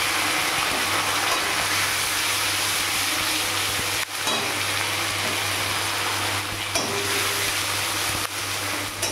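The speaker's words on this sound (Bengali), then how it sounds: "মশলাটাকে ভালো করে কষাবো।" A ground paste of salt, turmeric, cumin, ginger and tomato sizzles steadily in hot oil for a banana-flower dish, a loud continuous frying hiss with occasional stirring scrapes.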